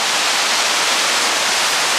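Arizona Falls on the Arizona Canal in Phoenix roars as a steady, dense rush of falling water, loud and close with no pauses.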